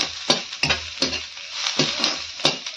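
Ginger-garlic paste sizzling in a little oil in a pan, with a spoon scraping and stirring at a steady rhythm of about one stroke every half second over a continuous fry hiss.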